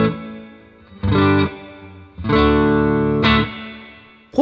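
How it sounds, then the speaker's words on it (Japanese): Distorted electric guitar chords through a Yamaha THR amp's hall reverb ring out in three separate strums, each swelling with a spacious reverb tail that decays into a lingering wash. "では最後、ホールリバーブですね。"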